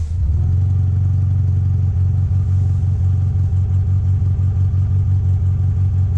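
A cold car engine in deep frost idles loudly and close, its low rumble slightly uneven and pulsing as it runs cold.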